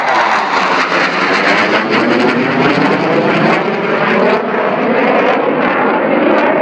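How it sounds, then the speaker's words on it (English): A jet aircraft passes overhead above a lakeside beach, a loud continuous roar that holds steady for several seconds with a broad, rushing tone. "Jet."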